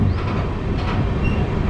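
The Amritsar-Bikaner Super Fast Express travels at speed, its steady, loud rumble of rails and wheels continuing without a break and with no voices over it.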